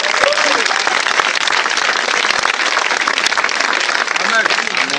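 A church congregation applauding in praise of Jesus Christ, loud dense continuous clapping that fills the space, with voices calling out over it.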